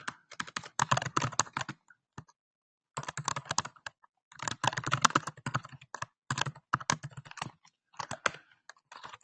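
Keys clacking on a computer keyboard while code is written, close and fairly quiet, in quick irregular bursts separated by brief pauses.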